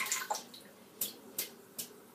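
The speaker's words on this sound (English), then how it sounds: "Just tip some of that bloom water out" Water tipped out of a shaving bowl after blooming lime, patchouli and mint soft soap, heard as a few short, close splashes and pours with quiet drips between them.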